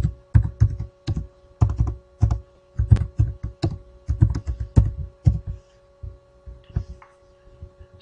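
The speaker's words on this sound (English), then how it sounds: "type in your name" Computer keyboard keys tapped in quick bursts of clicks, close and fairly loud, with brief pauses between runs of typing and a steady low electrical hum underneath.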